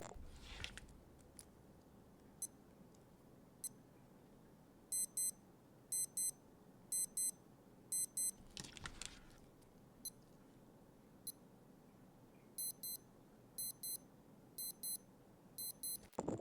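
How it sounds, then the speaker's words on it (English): Faint, high electronic beeps from a Casio F-105W digital watch alarm: single chirps, then rapid clustered beep bursts repeating in a pattern, with a few rustling handling noises between. "there is one other test I would like to conduct, and that is to do with the alarm tone."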